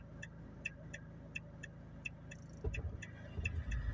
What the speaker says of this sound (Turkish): Arabanın gelişine bak.